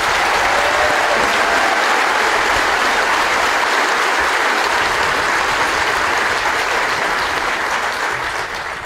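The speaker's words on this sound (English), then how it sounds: "could you please join me in a round of applause for the band and Chief Warrant Officer Band." Sustained audience applause for a military band at an Army graduation ceremony at Fort Jackson, a dense, steady wash of many hands clapping throughout that tapers slightly at the very end.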